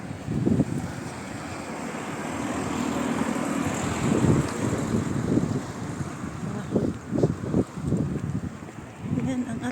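Wind blowing outdoors on a hot, gusty day while walking: a broad, continuous rumble of wind buffeting the microphone, with stronger gusting bursts in the second half.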